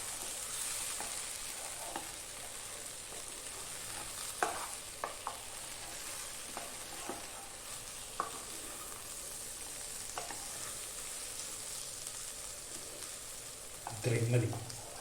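Egg and potato frying in butter with ground pepper are stirred in a pan, giving a soft ongoing sizzle broken by scattered scraping clicks of the spoon and a louder clatter near the end.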